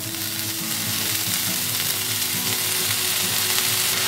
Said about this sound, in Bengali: এবার ভালো করে মিক্সআপ করে নিচ্ছি খানিকক্ষণের জন্য, আর ফ্রাইও করতে থাকছি তার সাথে সাথে